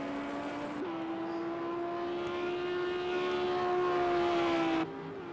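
A Lamborghini GT3 race car engine howls at a steady high pitch in a sim racing endurance round at the Red Bull Ring, holding a sustained drone that swells slightly before cutting to a lower note near the end.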